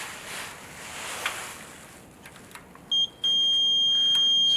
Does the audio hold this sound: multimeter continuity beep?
yes